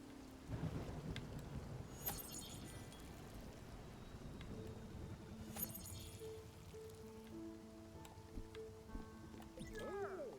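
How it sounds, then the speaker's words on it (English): A thunderstorm with rain in the video game Spiritfarer: steady rain hiss with sharp thunder cracks and rolling rumbles, plus some game tones near the end. "And there's the storm."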